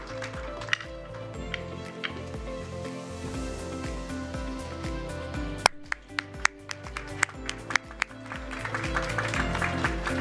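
Audience applause at a talent summit panel discussion, scattered clapping mixed under louder rhythmic background music throughout.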